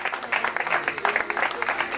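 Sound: audience applause at a race awards ceremony

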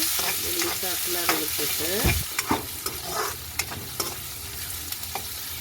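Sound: frying chopped onions in a pan

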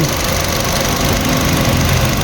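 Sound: Nissan Almera car engine running after repair

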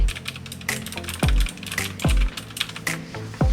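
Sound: typing on mechanical keyboard blue switches

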